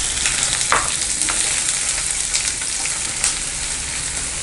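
Onions fry in hot oil in a kadai with whole spices, giving a loud, steady sizzle and crackle that fills the whole span, with a few faint scrapes of stirring and no voices.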